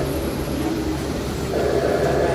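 A small San Antonio Zoo train rolling into a depot, a steady low rumble of wheels and carriage that swells slightly near the end as it pulls in.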